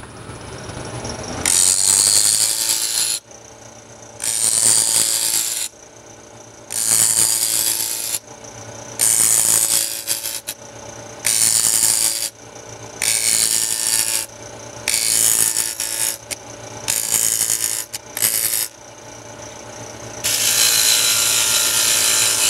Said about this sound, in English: This is called the planing cut.